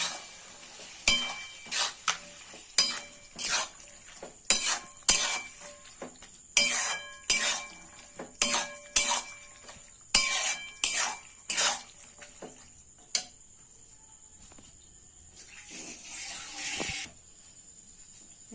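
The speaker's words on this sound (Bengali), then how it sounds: "নেড়ে নেব।" Black lentils (kalai) stirred in a frying pan in a Bengali dhaba-style tadka: a run of sharp utensil clinks and scrapes against the pan, close and irregular, then a softer steady sizzling hiss near the end.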